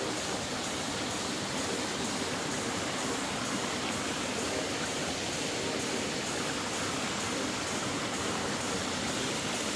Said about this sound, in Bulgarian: Това е Церовския водопад.